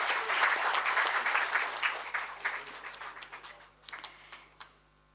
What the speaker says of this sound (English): Kindly give him a big applause.